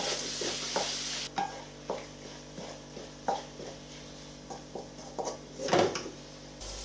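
Coriander and other spices heat in a pan on turned-down heat, with a quiet sizzle under a series of distinct knocks and scrapes from stirring, heard close up.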